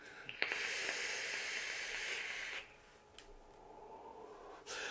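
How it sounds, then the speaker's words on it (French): An e-cigarette user exhales a cloud of pomegranate-and-strawberry flavoured vapour in a long, steady breathy hiss. The hiss lasts about two and a half seconds and then fades into quiet room tone, followed by a short puff near the end. "On fait toujours une très belle vapeur"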